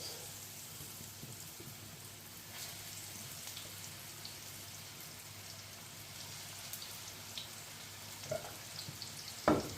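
Scotch eggs frying in hot oil, a soft, steady sizzle and crackle throughout, quiet and even, with a few small pops and a brief clink near the end.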